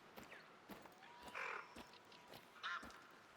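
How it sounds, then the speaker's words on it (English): In The Hunter: Call of the Wild, a faint, distant loon calls twice amid quiet woodland ambience, with sharp clicks and small knocks scattered throughout. "No, that was a loon."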